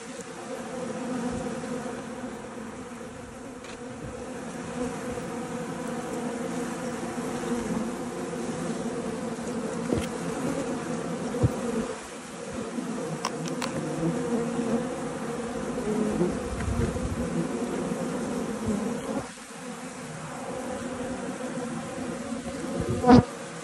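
A swarm of bees buzzes at a colony nesting behind a house's fascia board, a dense, continuous droning hum that holds steady throughout with small swells and no voices.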